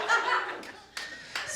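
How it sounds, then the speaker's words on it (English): Audience at a stand-up comedy show breaking into short bursts of clapping mixed with laughter, the applause swelling and stopping in quick waves. "why are you clapping?"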